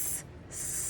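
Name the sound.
voice imitating a slithering snake's hiss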